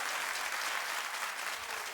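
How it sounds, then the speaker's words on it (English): A studio audience at a daytime talk show claps steadily and loudly, a dense, even wash of applause that never lets up for its full length. "Never feel like you can't clap here, never."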